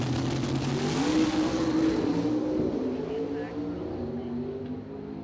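Jeff Cook's Camaro at a drag strip during BOP Nationals, its engine droning steadily as the car runs down the track and shifts through the gears, fading slightly with distance toward the end.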